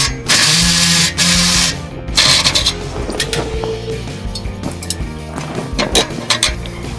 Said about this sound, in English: I have to use this toy sawzall.